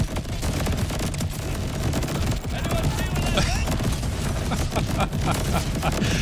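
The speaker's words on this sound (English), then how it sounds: "You can't see anything, it's just all explosions." Dense, continuous booms and crackling blasts pile on top of each other with rapid gunfire mixed in, loud and chaotic with no pause, in the video game Borderlands 4.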